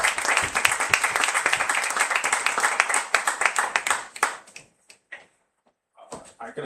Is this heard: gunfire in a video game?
no